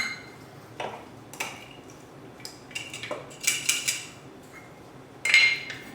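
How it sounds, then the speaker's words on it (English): A half-cup measuring spoon scoops ground coffee into a cloth coffee sock for cold brew, giving a scattering of light metallic clinks and taps, a few sharper knocks and a soft rustle near the end, close by. "level scoop of coffee into the coffee sock it goes"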